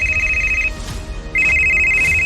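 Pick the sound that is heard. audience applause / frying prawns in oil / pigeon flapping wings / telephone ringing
telephone ringing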